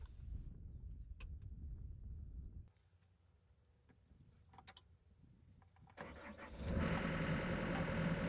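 A John Deere compact excavator engine cranks and starts, rising from a low rumble through a quiet pause into a loud, steady running roar close by.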